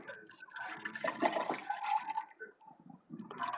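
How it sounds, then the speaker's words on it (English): Water poured into lemon juice to make lemonade, a short, faint splashing pour that fills a container for a few seconds. "Add some water."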